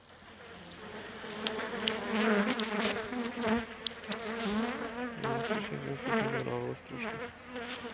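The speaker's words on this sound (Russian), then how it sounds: "Пчелки спокойненько сидят в клубах" Dense, continuous buzzing of many Carniolan honeybees sitting in a winter cluster close by, a warm droning hum that swells and wavers without pause; no one speaks.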